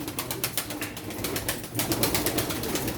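Pigeons at a Turkish pigeon auction in Çorum, soft cooing and bird calls with fluttery movement, fairly close, continuous through the short stretch without clear talk.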